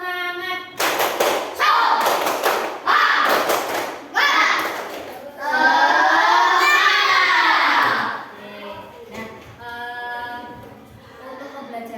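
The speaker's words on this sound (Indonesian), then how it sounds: "Tepuk semangat." A class of children performs the 'tepuk semangat' spirit clap, with loud bursts of rhythmic group clapping and thumping alternating with the children chanting together, and a teacher's voice near the end.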